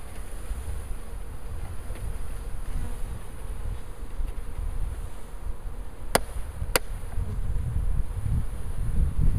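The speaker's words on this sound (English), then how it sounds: "Thump and dump. Including some on the queen. And just get as many people into the hive as we can." Honey bees dumped from a package into a hive fill the scene with a steady close buzzing hum, with two sharp knocks partway through as the package is thumped.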